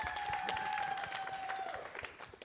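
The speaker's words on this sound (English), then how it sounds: "Round of applause" An audience at a student union election night event gives a round of applause, a crackly spread of clapping that fades out toward the end, with a high steady whistle-like tone running over the first part.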